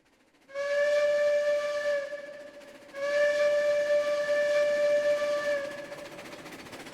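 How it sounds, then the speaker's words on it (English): A steam train whistle in the railroad video game RO sounds two long, loud, steady blasts with a short gap between them, with reverb trailing each blast. "The whistle sounds so much better in this map because they actually have the reverb."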